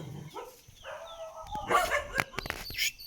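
Dogs in a jungle village in Mexico bark in a series of sharp, uneven yaps alongside whimpering and yelps, fairly close, with a faint voice beneath.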